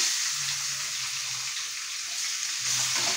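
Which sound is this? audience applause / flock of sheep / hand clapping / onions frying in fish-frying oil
onions frying in fish-frying oil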